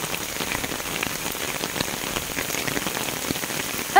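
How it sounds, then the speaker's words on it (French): Hail falling in winter weather makes a dense, even hiss of pellets striking surfaces, loud and continuous for a few seconds with no voices. "J'avais demandé de la neige, j'avais pas demandé de la grêle."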